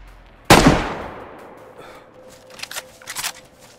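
A single sharp gunshot in the game DayZ cracks loudly and decays, followed by a few quieter clicks and rattles.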